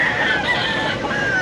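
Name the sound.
banded roosters at a pet market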